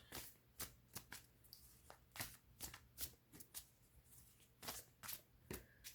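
Cards are shuffled in quick irregular bursts of crisp riffling and slapping taps, close and fairly quiet, repeating over several seconds in a calm indoor setting during a tarot reading.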